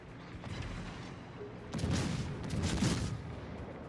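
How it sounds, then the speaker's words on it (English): Naval gun turrets on the battleship Colorado fire in World of Warships, heavy booming salvos with rumbling low end swelling twice over a continuous background battle din, no voices. "So now I can get all of my turrets firing on the Colorado."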